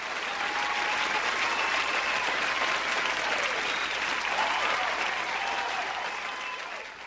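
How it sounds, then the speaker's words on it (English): Sustained applause fills a room, a dense steady roar of many hands clapping at once, loud and continuous throughout before tapering slightly at the very end. "Another round of applause filled the room."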